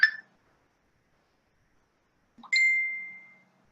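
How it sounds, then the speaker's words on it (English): A phone call alert sounds twice in a quiet room, a short chime followed after a pause by a longer, sustained electronic tone that slowly fades out. "it's a phone call there."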